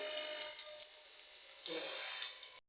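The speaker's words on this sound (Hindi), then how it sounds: "देखिए बस कितने मज़ेदार तरीके से हमारे कबाब फ्राई हो रहे हैं" Shami kebabs made from raw minced meat fry in a pan with a faint, soft sizzling hiss that swells and dips, louder in two short patches, before cutting off abruptly.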